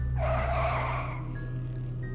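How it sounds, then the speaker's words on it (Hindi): A car brakes to a stop near a factory on a dirt track at night, a loud tire skid rising then fading over about a second, with steady low engine hum beneath and no talking. "मैंने एक फैक्ट्री के पास अपनी गाड़ी रोक दी।"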